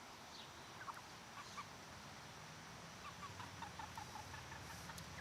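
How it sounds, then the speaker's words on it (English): Chickens cluck softly in short, scattered bursts over a quiet background hiss, fairly faint and irregular. "taking off this Goldie, she has been clucking like crazy in the past couple days."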